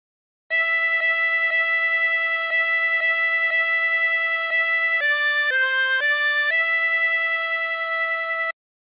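A 24-hole tremolo harmonica plays a phrase of Aura Lee alone: a run of repeated sustained reedy notes, then a short stepping rise and fall in pitch before settling back on the opening note.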